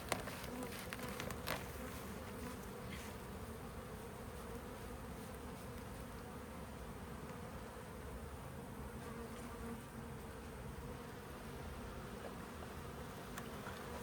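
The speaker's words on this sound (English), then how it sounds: "So I'm going to spray those bees a little bit, so maybe they will not be too cranky." Dense honeybee buzzing fills the air during a hive inspection, a steady near swarm drone with individual bees whining past, a few small knocks near the start, no talk.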